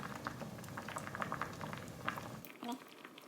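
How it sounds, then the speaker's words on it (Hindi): Garlic frying in oil in a pan, a constant busy crackle and spatter of small pops, close and steady, with a brief voice near the end. "इसको हम फ्राई होने देंगे कुछ देर के लिए"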